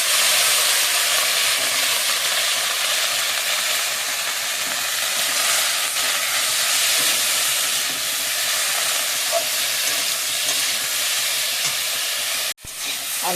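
Potatoes poured into hot oil with salt in a pan for a Bengali potato curry, a loud steady hiss and sizzle throughout, ending with a sharp clatter near the end.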